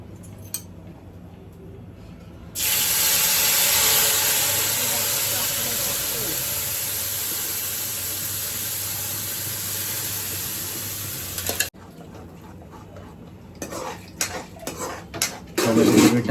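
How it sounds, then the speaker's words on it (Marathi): Tomato puree tipped into hot oil gives a loud, steady hissing sizzle that starts suddenly and holds for about nine seconds, then cuts off, leaving quieter clinks of a pan and utensils. "आता मी डिरेक्टली त्याच्यामध्ये टोमॅटो प्युरी टाकतोय"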